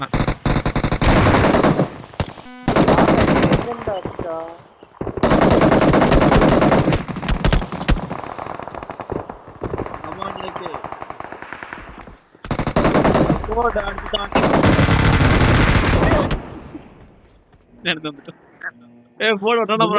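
Loud, rapid machine gun bursts from a video game fire in several long volleys with short gaps, while people talk excitedly in between and over the shots.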